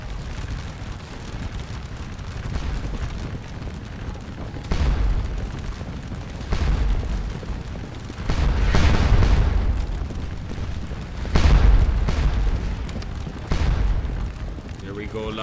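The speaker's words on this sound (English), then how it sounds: "we'll get this infantry unit to start firing at them" Massed infantry musket volleys in the Napoleonic battle game Scourge of War Waterloo, booming reports rolling out every couple of seconds over a low rumbling battlefield bed while someone talks throughout.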